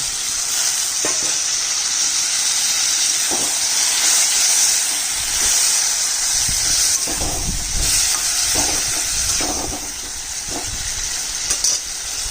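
Small fried bony fish simmering in a pan for a chorchori after a splash of water goes in, giving a loud, constant close-up sizzle and hiss with occasional stirring bumps.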